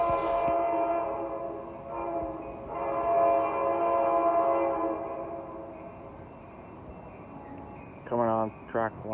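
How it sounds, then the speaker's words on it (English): Amtrak 711 Gold Runner led by an F59PHI locomotive at Jack London Square in Oakland: a loud sustained horn blast with a rumbling locomotive, then a couple of short horn toots near the end, with a voice talking over it. "The Amtrak 711 Gold Runner, led by"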